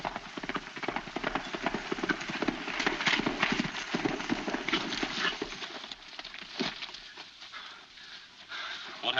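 Horse hooves clip-clop in an old 1940 western, a fairly faint, uneven patter of steps running for several seconds, muffled in the background with a rough, noisy soundtrack texture.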